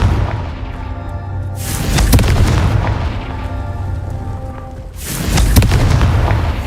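Blasting-spell explosions from the Hogwarts Legacy video game: two deep, booming blasts a few seconds apart, each with a sharp crack followed by a rumbling low tail, loud and close with no voices.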